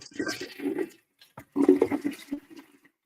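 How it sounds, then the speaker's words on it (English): A toilet flush played as a soundboard effect, two short rushing water bursts separated by a brief gap, fairly close and alone. "I assumed you're doing the toilet flush"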